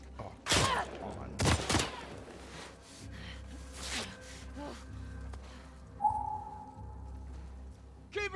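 Gunfire in The Last of Us Part II comes as a few loud, sharp bursts of shots early on, then scattered quieter reports and a rumbling low backdrop, with game sounds and voices mixed in.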